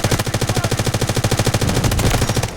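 Rapid automatic gunfire in the mobile shooter game Delta Force Mobile, a loud, close burst of evenly spaced shots that runs for about two seconds before cutting off.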